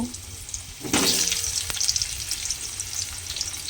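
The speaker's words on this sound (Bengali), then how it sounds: "সেই আলুগুলো কিন্তু আমি তেলের মধ্যে প্রথমে দিয়ে দেব" Diced potatoes, three medium ones, dropped into hot oil in a home kitchen for an egg curry, bursting into a loud steady sizzle after a quiet start.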